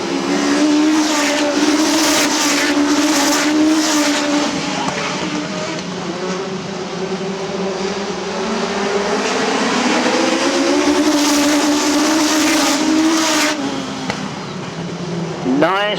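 Stock cars race around the oval at Arlington Stadium, with engines roaring continuously and rising and falling as the pack passes, a tyre squeal near the end, and a commentator talking over the noise.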